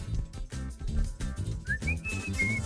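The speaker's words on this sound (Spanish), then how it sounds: "¿Silbar? Correcto." Whistling as a clue in a TV game show sound-guessing round: a short, high, wavering whistled melody enters partway through, over a busy, rhythmic low background.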